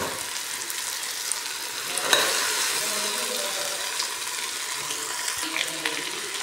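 Bottle gourd and small dried anchovies stir-fried in a pan, a steady sizzling hiss with scattered scraping stirs and clatters, close and continuous without talk.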